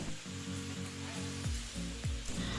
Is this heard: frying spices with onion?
yes